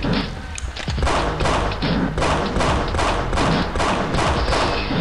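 Rapid, repeated gunfire from Pixel Gun 3D arena combat: loud bursts and thuds land in a steady, almost rhythmic volley for several seconds, close and dominant, with only a brief lull near the start.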